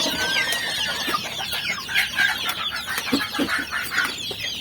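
Chickens crowd together and cluck continuously up close while greedily pecking at freshly mixed homemade feed, with busy, overlapping bird calls and scratching throughout.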